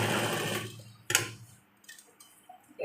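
A sewing machine stitches binding onto a nightie's round neckline, a short burst of fast rhythmic whirring up close that stops abruptly, followed by a few faint clicks and taps.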